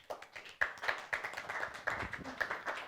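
A few hands clap in a steady, fairly close rhythm during a stage arts talk show, the sharp claps repeating at a moderate pace with no voices over them.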